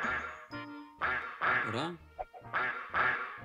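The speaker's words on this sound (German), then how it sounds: "Da sind wieder Enten!" Ducks quacking in the Pinocchio video game for the Super Nintendo, a series of bright, repeated synthetic quacks in regular bursts, with a voice briefly speaking between them.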